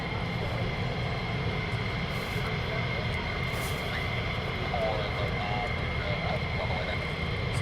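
USAF fighter jets, including F-15s, taxi at RAF Lakenheath with a steady distant engine roar and whine, while people talk nearby throughout.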